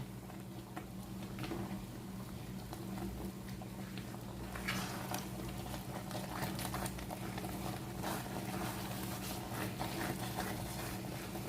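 Steady bubbling of liquid boiling in a pan, a continuous rumbling simmer with occasional light ticks and clinks, close and moderately loud, no voices.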